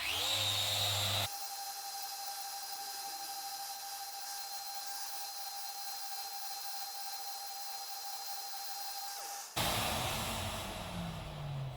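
A Festool Rotex 125 random-orbit sander works resawn wood fresh off the bandsaw, a steady close whir with a high hiss that runs unbroken for about eight seconds, with louder handling noise before it starts and after it stops.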